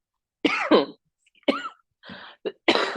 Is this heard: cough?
yes